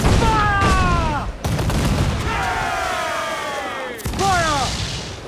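Ship cannons firing during a naval battle in Assassin's Creed IV Black Flag, booming blasts over a dense roar of combat, with crew voices shouting orders and cries through the din.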